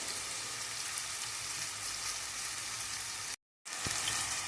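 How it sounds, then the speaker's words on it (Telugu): Onions with a little turmeric frying in a pan for chicken curry, a steady broadband sizzle that runs without a break except for one short silent gap, close and fairly loud with no talk. "ఉల్లిపాయలు కాస్త వేగుతున్నాయండి"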